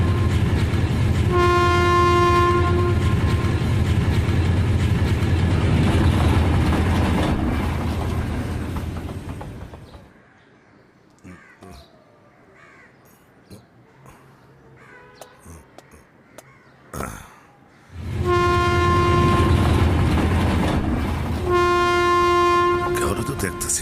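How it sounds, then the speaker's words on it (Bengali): A train passes close by with loud sustained rumbling and long blasts of its horn. The noise drops away to a quieter stretch with crows cawing, then the rumble returns with more horn blasts. "ওই যে ট্রেন এসে পড়ছে।"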